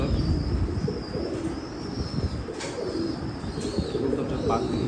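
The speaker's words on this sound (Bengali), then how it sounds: "এই যে এক পেয়ার ফিরোজপুরি কবুতর ভাইয়ার লফটে" Several Firozpuri pigeons coo softly in a loft, their low murmuring calls continuous and fairly close, with faint chirps and occasional brief clatter in the background.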